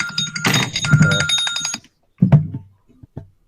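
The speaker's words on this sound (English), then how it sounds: "There's a notification." A short electronic alert chime with bright ringing tones, followed by a couple of softer clicks and a brief second tone after a pause.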